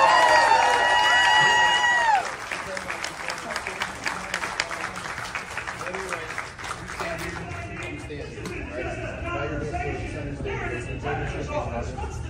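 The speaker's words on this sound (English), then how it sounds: "let's give them a huge round of applause" Applause and cheering at a furry convention: a crowd claps densely amid a few whoops, with some voices in the mix, and it carries on at a steady, somewhat lower level after the first couple of seconds.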